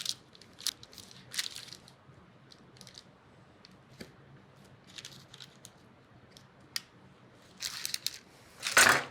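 A knife cuts through a pan of pecan bar cookies, producing scattered faint crunches and scrapes with a louder crunch at the end.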